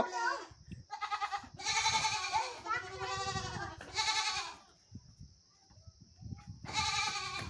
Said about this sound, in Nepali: बाख्रा आयो गाइस बाख्रा आयो